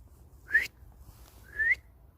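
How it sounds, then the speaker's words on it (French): Two short rising human whistles, each sliding upward in pitch and cutting off abruptly, spaced about a second apart, sounding thin and unsuccessful against a quiet background. "Vous avez entendu le sifflement qui a raté?"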